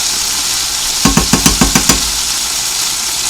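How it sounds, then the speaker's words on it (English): Butter sizzling on a steak in a hot pan, a loud constant hiss with a quick burst of about seven scraping or tapping strokes in the middle. "I'm just going to put the butter on top."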